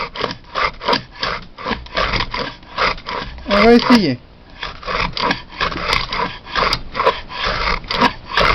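A size 10 wooden groove plane (bouvet) cuts across the grain of wood in a steady series of rasping, scraping strokes. A voice speaks briefly partway through.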